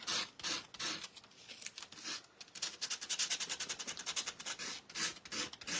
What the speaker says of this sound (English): And it doesn't hurt it to just sand it a little bit.